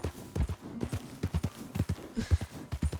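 Horse hooves clip-clopping in Red Dead Redemption 2, a quick uneven series of close, crisp hoof strikes repeating throughout with no talk over them.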